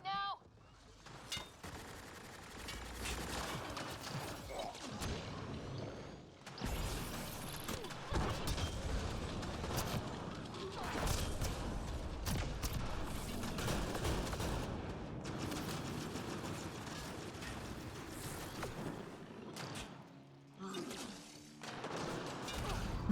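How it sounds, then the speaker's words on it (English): In Mass Effect Andromeda, a Remnant enemy fires a missile that explodes. A sudden whoosh and blast sit among rattling gunfire and mechanical clatter, with a player talking throughout at a fairly low overall level. "it just shoots a missile at you, frame one"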